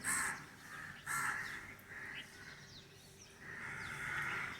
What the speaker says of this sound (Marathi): चिमण्या कावळं ओरडतात